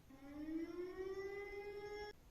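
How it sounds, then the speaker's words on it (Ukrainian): An air raid civil defense siren in Ukraine sounds a single rising, sustained wail that ends abruptly after about two seconds, heard from a distance at low volume. "Повітряна тривога. Повітряна тривога."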